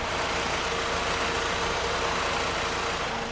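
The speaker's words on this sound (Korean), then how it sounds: "해당 차량이 품고 있는 엔진은 2400cc 가솔린 연료 사용하는 4기통 엔진이 탑재가 되어 있고요" A PT Cruiser minivan's 2.4-litre four-cylinder gasoline engine idles with a steady, smooth hum and a broad hiss, even and unchanging throughout, heard with the engine bay open.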